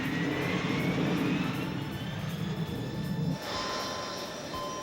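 The engines of a four-engine aircraft running low on fuel drone steadily and fairly faint from inside the plane, with the low rumble dropping off suddenly partway through while a thinner whine carries on.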